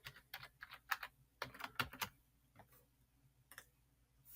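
Keys clatter on a computer keyboard as a password is typed, a close, quiet burst of irregular clicks that pauses briefly and then resumes with a few more taps.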